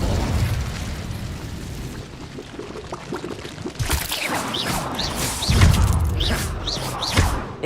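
In the Hogwarts Legacy video game, Incendio fire spells are cast in a duel against Drago, giving whooshing bursts and fiery booms that repeat amid combat effects, loud and close.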